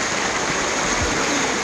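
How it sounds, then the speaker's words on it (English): Waterfalls and a stream rush steadily in a dense, continuous roar, close and loud, with no pauses or voices. "there's waterfalls all around the joint"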